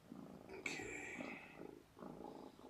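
A kitten purrs softly near a chair, a low continuous rumble that stays quiet and close, with a brief brighter chirp partway through.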